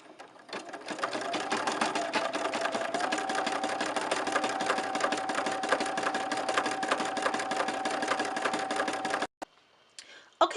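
A Brother PE 770 embroidery machine stitches the outline of a flower and a face, a rapid, steady mechanical chatter running continuously before stopping abruptly near the end.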